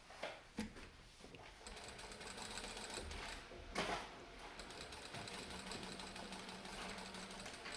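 A sewing machine stitches a trouser zip fly 8 mm from the edge, running as a fast, even whirr close by but at low volume, with a few brief knocks near the start.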